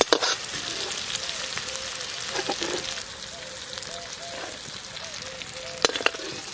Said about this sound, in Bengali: সুন্দর করে ভাজা হয়ে গেছে মস্ত সেটে চিংড়ি মাছ